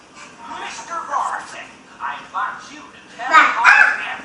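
A young child imitating a dog with a string of short voiced barking yelps, close and lively, the loudest burst near the end.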